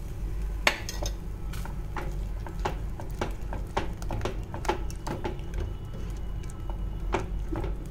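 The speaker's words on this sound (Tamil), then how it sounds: "இது ஒரு 2 மினிட்ஸ் நம்ம இப்படி கைவிடாமல் கிளறலாம்" A spoon scrapes and clinks steadily against a pot as kozhukattai batter with milk and jaggery is stirred over a low flame, the strokes coming in an irregular rhythm with faint bubbling beneath.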